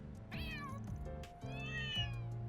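Cats at a cat meeting in the game Trails Through Daybreak meowing, two or three clear, drawn-out meows close up over a soft low background.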